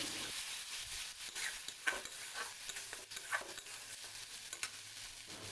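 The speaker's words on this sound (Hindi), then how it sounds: "ए सब को मध्य भल भाव 2 मिनिट पर्यंत फ्राई करी" Masala paste frying in a pan for a mushroom curry, a steady sizzle with repeated stirring scrapes running through the whole stretch, close and fairly quiet.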